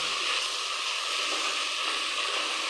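Onions sautéing in a pan for koonthal (squid) fry give off a steady, fairly faint sizzle that runs unbroken with no talking.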